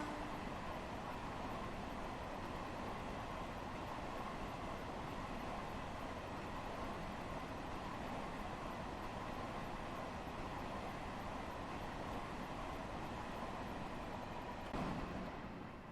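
Electric multiple-unit train motors powering in Train Sim World 2 on a New York route, a steady, loud, continuous droning hum with a repeating looped texture, running throughout with no talk.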